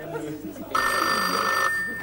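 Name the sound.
telephone ringing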